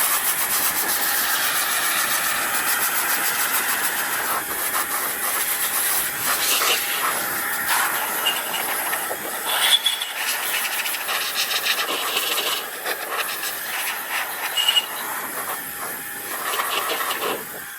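A continuous airy hiss of a Roedix electric air duster blowing dust from a PlayStation 5's cooling fins, with faint rattling and rubbing noises throughout.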